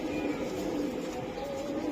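A racing giribaz highflyer pigeon coos close by in a low, steady, continuous murmur, with no voices over it.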